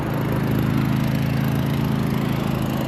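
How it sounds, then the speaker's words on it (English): Lawn mower engine running nearby on a small farm, a steady, loud drone with a rough buzzing texture that fills the whole stretch without any speech. "He's afraid of that lawnmower."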